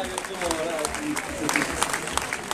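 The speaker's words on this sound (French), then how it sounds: "il faut l'applaudir" Crowd applause for Hervé Seitz finishing the 100 km de Millau race in 2012, with scattered, sharp claps mixed with people talking nearby over a busy outdoor background.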